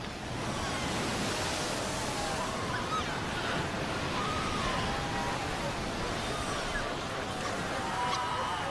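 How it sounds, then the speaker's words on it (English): Ocean waves crash over newborn seal pups on the shore, a continuous roaring wash of surf mixed with wind, loud and unbroken from start to finish. "The pups fight desperately against the onslaught of the waves."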